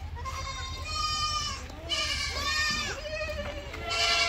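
Goat kids bleat at a goat farm, with several overlapping, wavering cries close by in continuous succession, and people talking faintly in the background.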